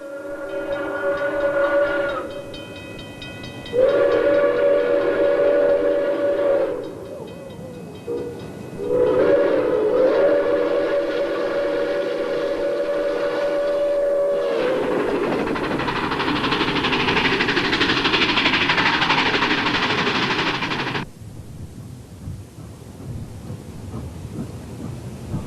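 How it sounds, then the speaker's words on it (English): An Erie Berkshire steam locomotive hauling a local freight train sounds its whistle in several long blasts, then heavy chuffing and rumbling roll past as the train works along, fading at the end. "Erie Berkshire on a local freight."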